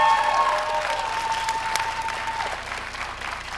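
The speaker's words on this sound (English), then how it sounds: "Let's give them all a great round of applause." An audience at a law school ceremony applauds, a dense burst of close clapping that slowly eases in loudness over a few seconds, with faint crowd murmur beneath.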